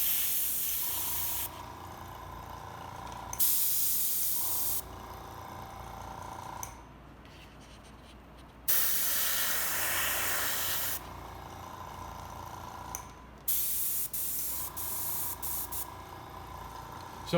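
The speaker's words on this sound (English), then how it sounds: "Once you capture the spray with a template like this Art Tool shield, you automatically get an edge" Airbrush spraying paint against an Art Tool shield template, with short bursts of airy hiss starting and stopping several times, close and steady, separated by brief quieter pauses.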